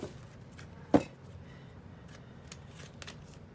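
A tarot card deck is shuffled in split halves, giving one sharp riffling burst followed by faint scattered card clicks and taps, close and quiet, with no talking.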